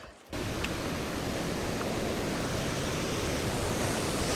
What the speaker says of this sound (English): So, I think it's the Whitewater Falls River. This is the lower Whitewater Falls.